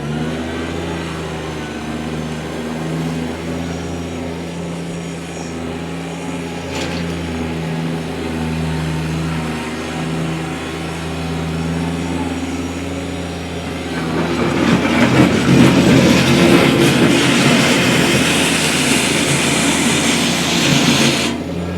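A 2018 Kubota BX1880 diesel sub-compact tractor runs in high range with a steady low engine drone, then its noise swells noticeably louder and rougher about two-thirds through as it picks up speed, close by.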